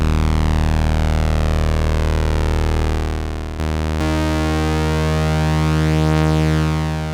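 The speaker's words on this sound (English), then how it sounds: "coming back to the sawtooth on this, and then playing an octave" A Roland Jupiter-8 synthesizer plays a loud, bright sawtooth tone in octaves, held steady, then a brief cut near the middle and a new sustained chord with slowly beating, slightly detuned oscillators, heard alone.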